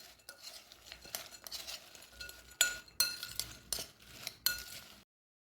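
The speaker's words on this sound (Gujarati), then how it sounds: "તો હવે આપણે બધું સરસ મિક્સ કરી લઈશું।" A spoon stirs farali bhel in a bowl, scraping and clinking against the sides in repeated close, uneven strokes before stopping abruptly.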